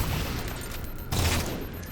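Battle rifle firing in Halo Infinite, a dense stretch of loud gunfire with a heavier burst partway through, no talking.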